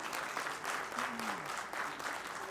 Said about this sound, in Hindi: एक बार जोरदार तालियां उनके लिए बजाएं